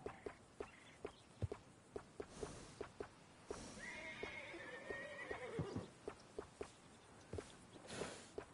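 A horse in a PS4 video game walks with steady, evenly spaced clip-clops and gives a clear neigh midway, quiet and close with no voices.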